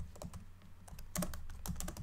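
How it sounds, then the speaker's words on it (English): Fingers type steadily on a computer keyboard in a quiet office, a soft, close run of clicks that thickens into denser bursts of keystrokes, with no talking. "In these moments where Stanley could be safe and secluded in his office, merrily typing away, life was perfect"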